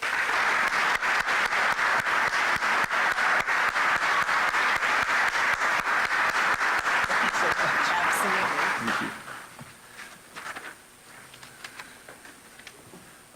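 An audience bursts into sustained applause welcoming a speaker to the podium at a county State of the County address, loud steady clapping that fades after about nine seconds into scattered claps and room noise.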